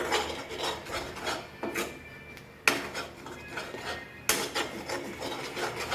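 A sweet mixture with ghee is stirred in a pan, with close, repeated scraping strokes of a utensil against the metal and occasional sharper clanks. No one speaks.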